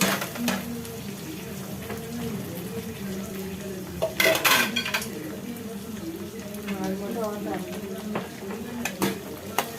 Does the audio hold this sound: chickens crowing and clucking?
no